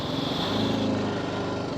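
A motorcycle engine idles and revs steadily up close during basic rider training at low speed, a continuous buzzing drone with no break.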